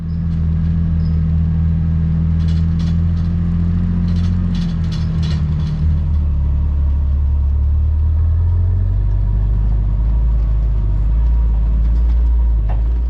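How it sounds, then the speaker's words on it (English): A Toyota FJ drives through deep snow, its engine giving a loud, deep, continuous rumble that shifts slightly in pitch, with a few faint clicks and knocks partway through. "driving through deep snow wheeling actually is a ton of fun"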